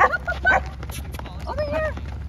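A little puppy yips and whimpers close by outdoors, with short high-pitched cries and a few thin whines, while a person talks over it.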